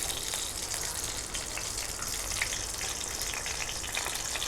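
Panch phoron five-spice dropped into hot oil, a steady dense sizzle and crackle close by, continuous and alone with no talking.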